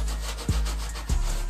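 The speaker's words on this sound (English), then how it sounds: "I'll take a dry rag, just scrub my face" A dry rag is scrubbed across a face in two short, close rubbing strokes with a soft scratchy texture, each a brief burst separated by a pause.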